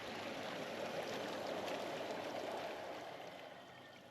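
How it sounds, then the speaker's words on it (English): Water bubbles and churns steadily in a Bestway Lay-Z-Spa Tahiti inflatable hot tub as its blower pushes air through a ring around the base, a dense continuous fizzing rush that stays close and fairly even. "then the blower gets the bubbles happening, which come from a ring around the base"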